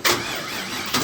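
A twin-turbo car engine with a balky starter catches in a short, loud, close burst, a brief whirring surge that fades and then swells again within about a second.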